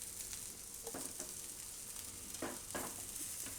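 Bottle gourd pieces fry in a small amount of oil, giving a steady close sizzle broken by a few short scraping stirs, with no talking.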